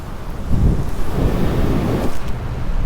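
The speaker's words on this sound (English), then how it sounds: "I can't tell which direction the wind's coming from." Steady wind gusts at an open-field emergency landing site for a paramotor, rushing and buffeting the microphone continuously and fairly loud, with no voices.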